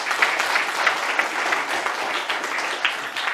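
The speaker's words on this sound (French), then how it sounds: "on peut les applaudir" An audience at a school event claps for students, a sustained ripple of many hands at moderate loudness with no voices over it.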